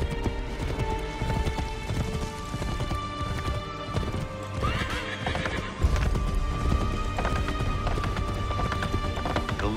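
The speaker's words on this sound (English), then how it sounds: "Take that horse, Brother Hungedo." Horses gallop and neigh in Assassin's Creed 3, with dense, rapid hoof clip-clops under loud whinnies amid a busy game soundscape.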